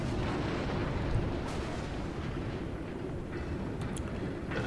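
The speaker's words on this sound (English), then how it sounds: "I think I have the entire enemy team firing at me" Heavy battleship artillery fire in World of Warships, a dense continuous rumble of distant naval gun blasts and explosions with no speech.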